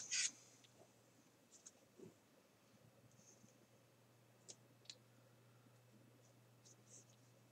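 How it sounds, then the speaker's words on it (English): Sparse, faint clicks and ticks scattered through a quiet room hum, small sharp snaps a few seconds apart, from a 3Doodler Create 3D pen heating up, like a heating element ticking. "it's making sort of clicking sounds like an element warming up"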